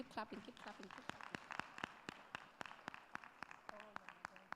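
A conference audience marking International Women's Day claps together in a steady, even tempo of sharp strikes, about four per second, while voices and a speaker carry on over the rhythm.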